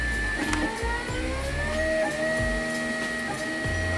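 A da Vinci 2.0 3D printer running as a print begins, giving a steady mechanical whir with shifting motor tones and faint periodic clicks, close and continuous with no talking.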